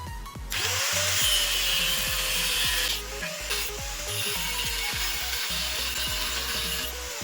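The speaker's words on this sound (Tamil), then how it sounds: "இந்த மாதிரி 2 சேனலை கட் பண்ணி எடுத்துக்கிட்டேன்." A power tool cuts two channels for a homemade solar panel build, whining steadily at close range with rhythmic grinding pulses and a brief dip partway through.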